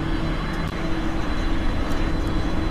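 A Falcon 7X jet engine spools up during startup in the X-Plane flight simulator, a loud steady roar and broadband rush with a faint high whine, continuous with no speech.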